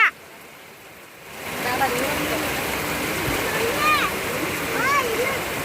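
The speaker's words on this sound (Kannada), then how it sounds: "ಜಗ್ಗಿ ಮಳೆ ಹತ್ತಿಬಿಟ್ಟೈತೆ ನೋಡ್ರಿ" Heavy rain drumming steadily on a tin roof overhead, a dense continuous downpour that swells and stays loud, with a voice briefly at the start and a few faint high calls over the roar.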